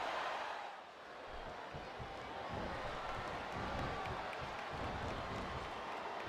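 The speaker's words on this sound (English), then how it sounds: "I love hearing a crowd come alive" Arena crowd noise from the wrestling video game SmackDown vs Raw 2008, a steady, dense roar of cheering spectators that swells slightly after a brief dip near the start and holds at a moderate level throughout.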